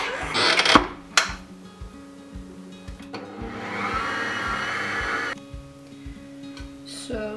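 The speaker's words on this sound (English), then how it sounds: "I'm using my stand mixer to do the hard work for me" A stand mixer with a dough hook kneads almond babka dough for a Polish Easter cake, giving a steady motor whir with a brief louder clatter near the start and a faint voice in the background.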